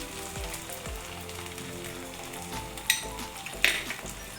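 Thalipeeth frying in butter or ghee on a pan, a soft steady sizzle with a couple of brief crackling bursts and light clinks of a utensil nearby, no talk.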